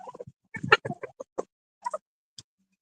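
Backyard chickens make a string of short, clucking and gobbling calls, close and fairly loud, in irregular bursts separated by quiet gaps.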